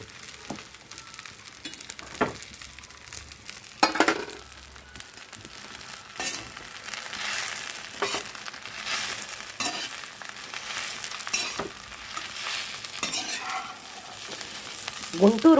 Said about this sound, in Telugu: చింతపండు కూడా కొంచెం అడుగంటుకోకుండా కొంచెం ఇలా కలుపుతూ ఉంటాము.